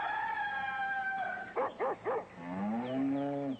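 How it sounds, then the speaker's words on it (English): A goat bleats in strange, warbling tones, with a run of three quick choppy yelps in the middle, then a long wavering moan, close and loud. "goat started to make strange noises"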